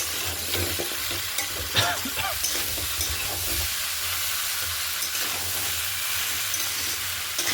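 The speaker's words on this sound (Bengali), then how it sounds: "দেখুন সম্পূর্ণ মশলার সাথে এই সবজিগুলোকে মিশিয়ে নিলাম" Mixed vegetables stirred into spice masala in a frying pan for a Bengali vegetable dish with catla fish head, with steady close sizzling and frying hiss and the scrape of stirring throughout.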